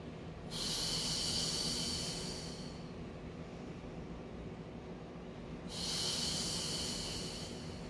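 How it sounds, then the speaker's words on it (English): Slow, steady breaths in and out during Pilates mat leg extensions, two long hissing exhale-like swells separated by a quieter stretch, close and soft, with no talking. "Inhale to reach, and exhale back."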